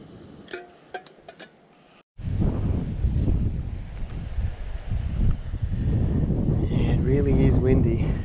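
Wind gusts buffet the microphone on an uninhabited island coast, a loud low roar that rises suddenly after a quiet start, with faint talk and camp sounds beneath.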